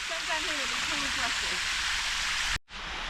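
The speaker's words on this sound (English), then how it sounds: "That is the biggest waterfall in the Netherlands." A small waterfall with rocks placed in it in the Netherlands gives a steady, broad rush of falling water close by, with a voice speaking over it at the start and a brief dropout near the end.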